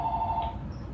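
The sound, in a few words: landline telephone ringing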